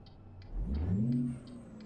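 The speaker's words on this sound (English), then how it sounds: "I don't know if this truck sounds as good for you guys as it does for me" A truck engine in American Truck Simulator revs up and eases back down, its pitch rising and falling, with faint rhythmic ticking in the background.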